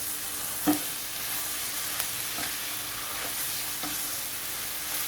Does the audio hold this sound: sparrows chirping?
no